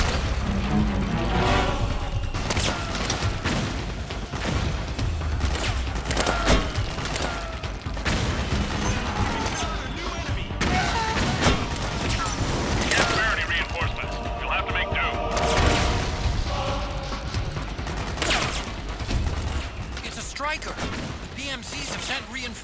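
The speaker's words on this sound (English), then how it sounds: "Ini bisa pakai mortar anjir." Mortar blasts and gunfire in the video game Metal Gear Solid 4 form a dense, continuous battle din of booms and rattling shots. Game music and effects play throughout, with a voice talking over them.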